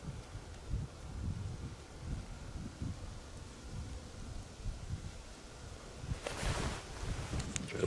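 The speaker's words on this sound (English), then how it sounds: "Of course, the wind's not helping anything." Gusty outdoor wind buffets and rumbles steadily and fairly faintly at a camp stove, with a brief louder rush of wind noise near the end.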